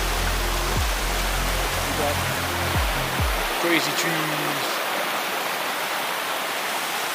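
A river flows steadily in Stokes State Park, New Jersey, a continuous broad rush of water among pine woods, with a voice speaking briefly near the start over the constant wash.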